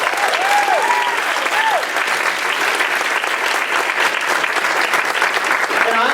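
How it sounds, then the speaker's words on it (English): An audience at a theater volunteer gala claps in sustained, dense applause for several seconds. The clapping is loud and close, and a few voices call out over it. "I just want to give him a round of applause."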